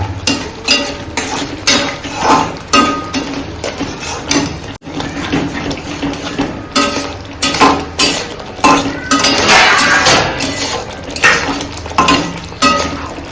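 A spoon scrapes and clinks rhythmically against a pan while stirring egg and potato curry with meat masala, the strokes repeating steadily and loudly with a soft sizzle beneath.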